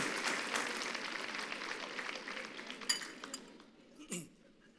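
Audience applause at a church sermon by a Chilean pastor, a steady broad patter filling most of the span and thinning toward the end, with a few sharp clinks and a brief voice near the close.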